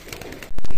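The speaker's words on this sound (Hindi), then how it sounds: "शानदार परों के ये कबूतर है" Ring pigeons with fine feathers coo close by in a Kashmir pigeon setup, a soft murmur rising into a louder, sustained coo in the second half.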